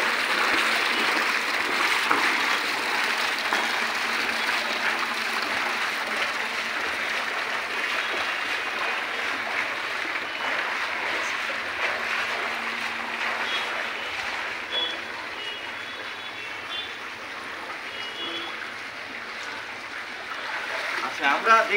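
A swimmer's strokes churn the water of a small rooftop pool, giving a continuous splashing wash. It stays fairly loud and steady throughout, with a few sharper splashes near the end.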